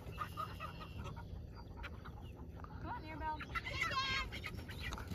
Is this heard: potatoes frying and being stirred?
no